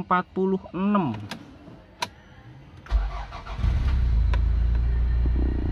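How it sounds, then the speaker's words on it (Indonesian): A used car's engine cranks and catches, then settles into a steady idle with the air conditioning on, preceded by short beeps and a few sharp clicks. "Starterannya mudah, RPM stabil di angka 1000 RPM pakai AC."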